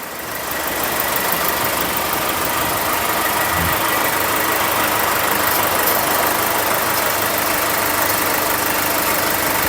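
A 2011 Nissan Navara SE with a 2500 cc diesel engine and six-speed gearbox idles steadily, a close, even, slightly knocking rumble that continues unchanged with no talk.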